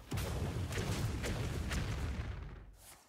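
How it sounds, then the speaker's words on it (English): A bomb detonating in a video game, a heavy boom at the start followed by a long rumbling tail that slowly fades out over a few seconds, with no voices. "are you gonna explode a bomb?"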